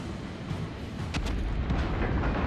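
Naval artillery fire in the World of Warships video game: a dense, booming rumble of heavy gunfire rolls steadily, with a few sharper blasts cutting through midway, loud and continuous throughout.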